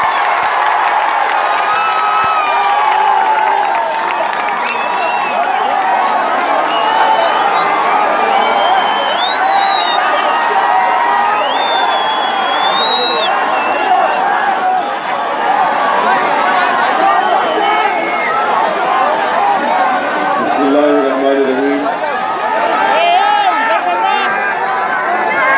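A large crowd at an AIMIM political rally at Roshan Gate cheers, whoops and applauds in a steady, loud wash, with shouts and chatter mixed in throughout.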